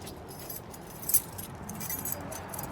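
Keys jangle close by in scattered metallic rattles over about three seconds, with one brighter clink near the middle, set against a low outdoor background in London.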